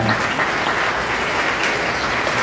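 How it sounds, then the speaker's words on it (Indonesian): Sustained, dense applause from a large audience at an Islamic religious gathering, steady and loud throughout with no talk over it. "tepuk untuk parkir barat"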